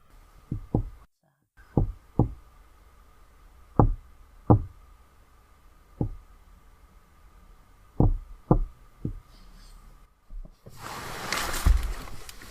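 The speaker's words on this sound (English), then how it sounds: "We then hear a series of knocks that, when translated from Morse code, ominously mean, dies." A series of sharp, distinct knocks in Morse code from the video game Petscop, in an irregular rhythm with some grouped in pairs, over a low hum, ending in a burst of harsh static.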